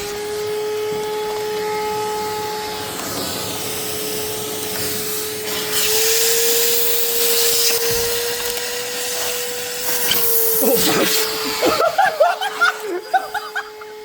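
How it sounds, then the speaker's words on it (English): A shop vacuum runs steadily with a constant motor whine while sucking coolant out of a Datsun 280Z, its pitch shifting slightly as the hose draws liquid, followed by gurgling bursts and laughter near the end. "I'm gonna turn the vacuum on and put it like that and suck the coolant out."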